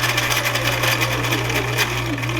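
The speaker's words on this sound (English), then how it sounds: "I'm going to stitch back stitch, and then I am done." Sewing machine running steadily while stitching fabric, backstitching a line with the needle down; a continuous close mechanical whir with a constant motor hum, alone and fairly loud.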